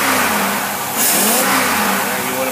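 A car engine fitted with a Carter two-barrel carburetor runs loud and close, rising into a brief rev partway through before settling back to a steady roar.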